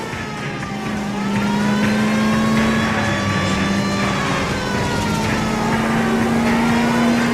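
A car engine drones loudly during a chase in the video game L.A. Noire, holding a steady high pitch with slight rises and dips, continuous and close, with no talking.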